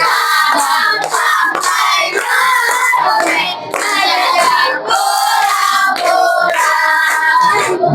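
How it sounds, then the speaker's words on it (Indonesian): Children in a primary school classroom sing the Indonesian patriotic song loudly together, their voices steady and bright, with rhythmic hand clapping blended into the singing throughout. "Oke, tangannya boleh mau tepuk tangan"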